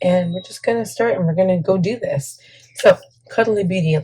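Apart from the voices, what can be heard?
No everyday noises stand out.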